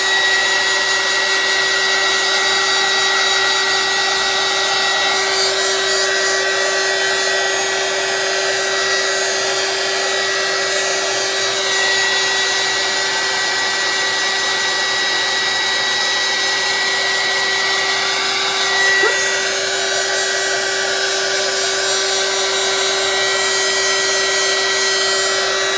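A heat gun blows hot air over resin art, a loud, unbroken fan-and-motor roar with a steady whine, running alone for the whole stretch.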